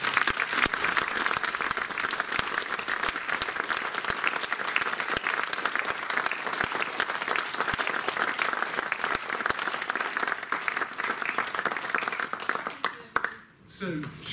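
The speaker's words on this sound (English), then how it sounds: "a huge round of applause for me" Sustained audience applause inside Clifton Cathedral after a Lent talk, many hands clapping in a dense, even wash for over ten seconds, loud and reverberant, then thinning abruptly near the end.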